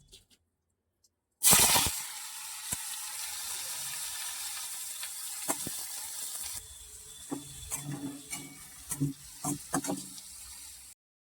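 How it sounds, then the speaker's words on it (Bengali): Bitter gourd and onion fry with panch phoron in a wok, a steady close sizzle with scraping, clattering stirring strokes that grow busier toward the end. "পাঁচফোড়ন দিয়েছি কড়াতে আর এই যে করব হচ্ছে উচ্ছে পেঁয়াজ রসা"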